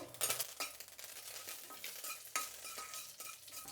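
Mustard seeds, dried red chillies and curry leaves sizzle and crackle in hot tempering oil, a steady bright frying hiss with scattered pops and a few stirring scrapes, close and alone with no talking.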